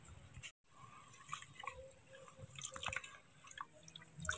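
Broken rice is washed by hand in pond water outdoors, with soft drips, trickles and small splashes coming close and fairly faint.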